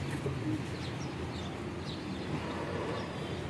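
Breeder pigeons coo softly amid a dense, continuous wash of loft noise, with faint chirps rising above the steady din.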